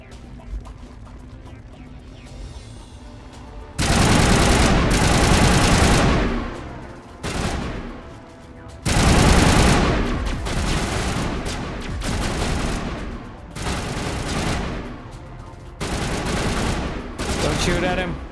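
Gunfire in the video game Mass Effect 1, loud bursts of rapid automatic fire in several long volleys separated by short pauses, close and dense.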